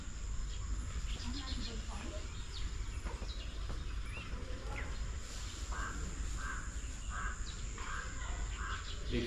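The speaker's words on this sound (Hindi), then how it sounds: "सुबह सुबह देखो ध्यान से सुनो चिड़िया की आवाज़ जो आ रही है।" Birds call outside a house in the morning. Several sharp crow caws and chirps rise over a steady, noisy background.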